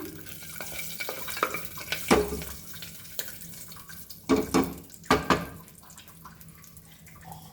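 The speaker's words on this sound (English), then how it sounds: "So 2 teaspoon of jeera rice, and we fry this in that ghee" Cumin seeds frying in ghee for jeera rice, a light crackle and sizzle punctuated by several sharp spoon scrapes and clinks against the pan, uneven and close.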